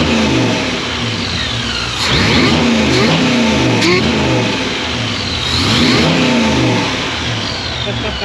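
A supercharged Chevrolet Nomad engine revs repeatedly, loud rising and falling pulls with induction noise close by, while people talk over it.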